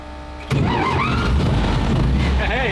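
A WWII tank engine cranks and catches abruptly, then settles into a loud, low, rumbling run close by, with a voice heard over it.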